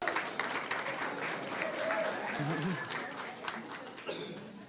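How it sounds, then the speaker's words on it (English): An audience at a school board meeting applauds with steady clapping throughout, moderately loud, with a few voices murmuring underneath. "let's give him one more round of applause."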